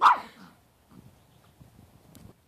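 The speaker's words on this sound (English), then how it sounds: "The dogs are barking" Dogs barking outdoors, one sharp loud bark at the start followed by faint, scattered low rustles and yips in the background.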